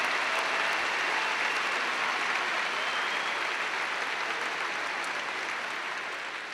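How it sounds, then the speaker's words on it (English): Commencement audience at a Ball State University spring ceremony applauding, a dense, even wash of many hands clapping that holds steady throughout and eases off slightly at the end. "that's worth a round of applause"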